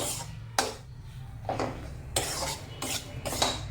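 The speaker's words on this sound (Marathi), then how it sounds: "असं आपण बेसनचं पीठ भाजून घ्यायचं" Gram flour (besan) roasts in a pan for barfi as a spatula scrapes and stirs it, giving several close, rasping strokes in an uneven rhythm with soft pauses between them.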